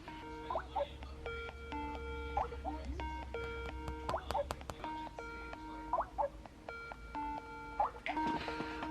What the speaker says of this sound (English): it rings on like all my devices when someone Skype calls me